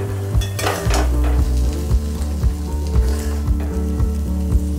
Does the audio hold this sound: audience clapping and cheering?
no